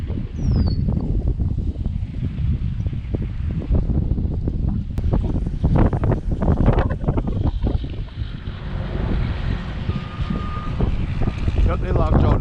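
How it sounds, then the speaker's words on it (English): Steady, loud wind buffets the microphone at a pond on a cold, windy day, a constant low rumble with gusty swells throughout, as someone talks over it. "Still the same wind."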